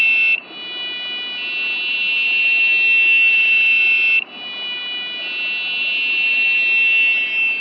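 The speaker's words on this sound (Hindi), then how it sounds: "buzzer is struggling to get switch on" An electronic buzzer driven by a PWM voltage sounds a loud, steady high-pitched tone that cuts out briefly twice and then resumes, with no one speaking over it.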